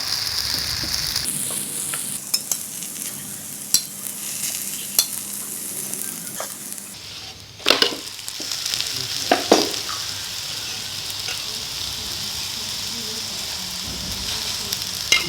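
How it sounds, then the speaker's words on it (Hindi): Parathas sizzle and crackle steadily in desi ghee on a village-style cooktop, a continuous close frying hiss with occasional pops and a brief stirring clatter midway. "मैं इनको देसी घी में पराठे बना के दे रहा हूँ"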